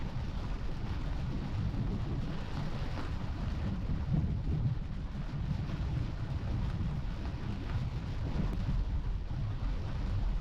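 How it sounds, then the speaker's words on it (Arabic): Heavy rain pours during a storm on a mountain road in Jazan, a dense continuous roar with gusty wind rumble, loud and unbroken from start to finish. "ازدادت غزارة المطر"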